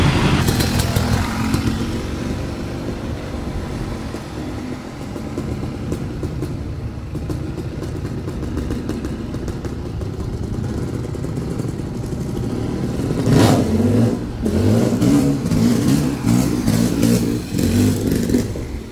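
A GT125 motorcycle engine runs loud and close with a rough, uneven idle, then revs up harder near the end with sputtering, misfiring bursts.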